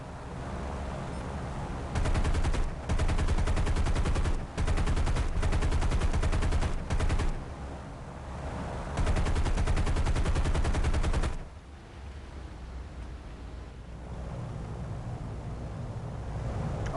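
Machine guns fired by gunners aboard a B-24D Liberator bomber in a flight combat game, in long sustained bursts with brief pauses, loud over steady engine drone.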